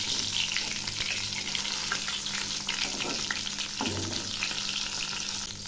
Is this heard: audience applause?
no